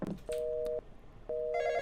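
A telephone rings in a horror video game, with two short electronic trilling bursts about a second apart, clear and close, the second blending into a brighter chime.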